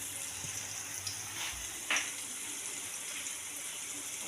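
Vegetables for egg roast sauté in a pan, likely onion, ginger, green chilli and garlic, with a soft continuous sizzle and a couple of brief stirring clinks.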